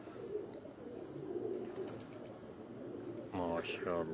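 A pigeon coos on a rooftop amid steady outdoor hiss, low murmuring coos running under a soft background before a person's voice cuts in loudly near the end.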